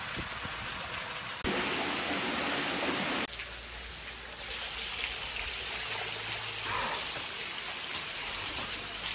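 A steady rush of running water fills the air on a monsoon trek up Lohagad Fort near Pune, a broad hiss that shifts in loudness over several seconds, with no voices.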